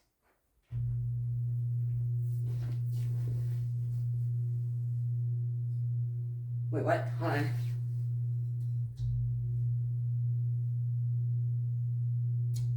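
A 2005 oil rubbed bronze Harbor Breeze ceiling fan runs in reverse with a steady, loud low motor hum that continues throughout, while people talk briefly over it.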